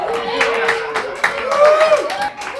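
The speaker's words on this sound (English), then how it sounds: "What are you cheering at?" Studio audience at a comedy stand-up routine cheering and clapping, a steady wash of applause with bursts of whoops and a rising shout, loud and close.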